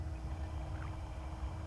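In the video game Broken Sword 3, a boat crosses a river with a steady, low rumbling wash of water that stays even and moderately quiet throughout, without speech.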